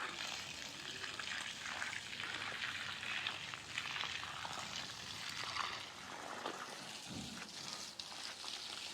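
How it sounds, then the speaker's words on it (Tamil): Water splashes and patters steadily onto plants in a home vegetable garden with bananas, beetroot and snake gourd, a soft continuous spray heard from nearby without speech. "இப்போ தண்ணி இறைக்கிறேன்."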